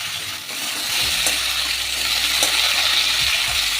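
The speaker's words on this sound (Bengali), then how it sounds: "আর একটু ভেজে নেব।" Pointed gourd, radish, pumpkin and potato stir-fry in hot oil, sizzling steadily with occasional scrapes and knocks of a spatula in the pan, close and continuous without talk.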